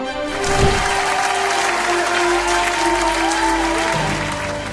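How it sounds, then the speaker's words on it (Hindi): Sustained applause from a large crowd after a performance on a televised gospel singing contest, loud and steady throughout, with a low musical tone underneath. "जोरदार तालियां।"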